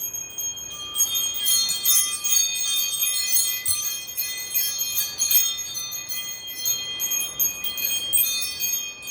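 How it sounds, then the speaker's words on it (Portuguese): Bells ring continuously in bright, overlapping metallic tones, sustained chiming with no voices. "cadê os sinos serguianos, meu Deus? Tá na hora deles."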